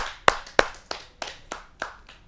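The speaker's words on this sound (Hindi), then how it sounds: "आइए स्वागत करते हैं उनका जोरदार तालियों से" Sparse hand claps at a poetry gathering, about seven distinct claps in an uneven rhythm, fairly close and clear rather than a full crowd.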